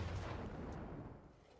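A deep, rumbling explosion in the video game The Culling rolls on alone and fades away over about a second and a half.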